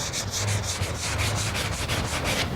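A soft sanding block rasps across a car hood in steady back-and-forth strokes, an even rhythmic scrubbing close up with no voices.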